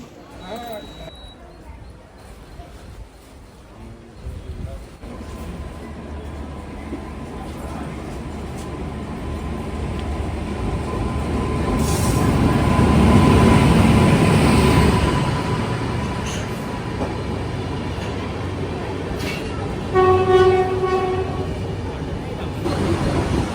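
A train rumbles into a station in Palghar district, growing louder, peaking before easing off, with a steady hum and a brief tonal squeal near the end; voices murmur in the background.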